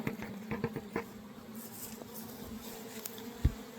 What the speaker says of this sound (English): it's time to shake them into the bucket, and then we're gonna see if we can get about 300 bees out and shake them up